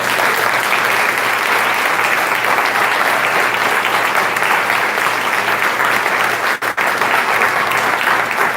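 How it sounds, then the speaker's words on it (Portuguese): A church congregation applauds during a worship service, the clapping dense, loud and steady throughout with no break, rising from a large crowd and heard on its own with no talk. "Você pode aplaudir mais uma vez Jesus?"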